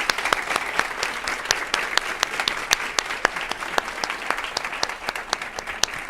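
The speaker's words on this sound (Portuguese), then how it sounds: "Gostaríamos de concluir com um aplauso para o nosso..." Audience applause closing a Café Filosófico talk on the medicalization of childhood: steady, dense clapping from a seated crowd with sharp individual claps standing out, moderately loud and sustained throughout with no talk.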